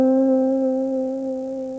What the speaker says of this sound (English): Now to get a slow, even vibrato